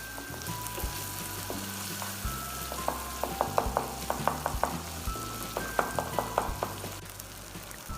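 Goat brain masala fries in a pan with a steady low sizzle while a spoon stirs it, giving repeated light scraping clicks in short bursts.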